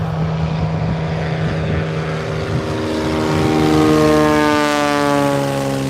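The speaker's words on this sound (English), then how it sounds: "It's just that plane." Small propeller training airplane running up its engine on a takeoff and landing circuit, a loud steady drone with rising harmonic whine that swells toward the end, no talk.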